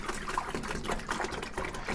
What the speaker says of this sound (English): I'm going to go ahead and pour my half gallon of water in, as the directions state.